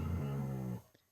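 Dog growling at a cat hiding under a chair, a single low rumbling growl close up lasting under a second before trailing off into quiet.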